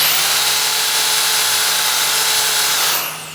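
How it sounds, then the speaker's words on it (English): A drill bores a hole down the middle of a brass vase, a loud steady high whine with thin metallic overtones that runs continuously and tapers off at the end. "I'm going to drill a hole in here, right down the middle."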